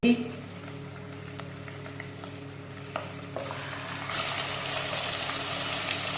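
Chicken pieces fry and sizzle in a pan with ginger and garlic for chicken jalfrezi, a steady broadband hiss with a few sharp stirring knocks, growing louder and brighter toward the end.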